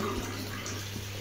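Water runs steadily from a tap into a baby's bath at home, a soft continuous splashing hiss that is fairly quiet and short.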